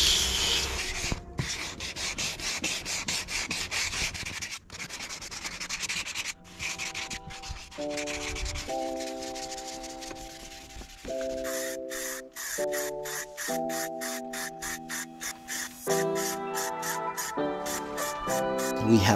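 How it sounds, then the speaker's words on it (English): Repeated rubbing and scraping strokes of wet sanding a plastic car bumper with a sanding block, close and steady, with some musical tones appearing partway through. "Just going to wet sand all of this area where we've sort of scuffed the bumper"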